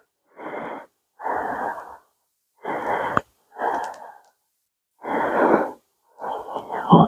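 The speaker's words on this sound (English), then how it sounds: "And take about 3 breaths." Deep, audible breaths during a yoga backbend warm-up: six slow, even inhales and exhales, close and fairly loud, with short pauses between them and no talking.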